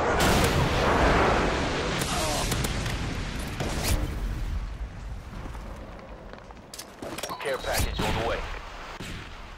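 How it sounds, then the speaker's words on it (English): An airstrike in Modern Warfare 2 multiplayer on Sub Base, heavy booming blasts and rumbling detonations with scattered gunfire cracks across the scene, loud and close, with no talking. "Friendly airstrike inbound."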